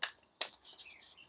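Tarot cards being shuffled by hand close up, giving a few crisp papery flicks and riffling bursts separated by brief pauses, fairly quiet with no voices.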